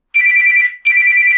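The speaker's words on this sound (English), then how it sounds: "I apologize for the phone call." A telephone ringing loudly and close: two sustained electronic ring tones with a short break between them, with no talking over them.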